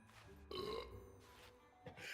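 Character burp emote in the game Wakfu, two or three short gurgling belches in quick succession, played at low volume.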